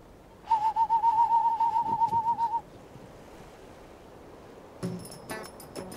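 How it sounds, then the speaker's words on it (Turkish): An owl calls in an outdoor night setting, a steady wavering whistle-like hoot lasting about two seconds, fairly close and clear, followed after a pause by fainter higher bird chirps. "Bu ne sesi? Kuş. Ne kuşu? Baykuş."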